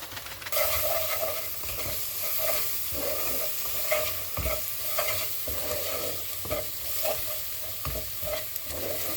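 Biryani spices are stirred in a cooking pot over steady frying sizzle, with repeated scraping strokes of a utensil at a regular pace throughout, close and fairly loud, with no talking.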